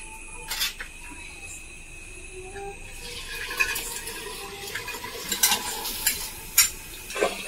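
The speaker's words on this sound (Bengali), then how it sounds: "আমার দিকে পাঁপড় ভাজা চলছে।" Papad frying in hot oil in a home kitchen: a steady soft sizzle with repeated sharp clinks and scrapes of a utensil against the pan, moderately close.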